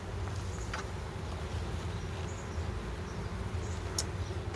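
Italian honey bees buzz inside a hive in a soft, steady, low hum that holds evenly throughout, faint and close, with a few light flicks and no talking.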